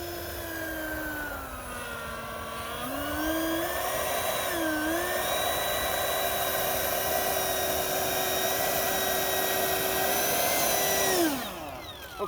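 A Durafly DH 100 Vampire RC model jet, powered by a 4S lipo, flies overhead with a steady, loud ducted-fan whine whose pitch dips and swells as it passes, then drops away at the end.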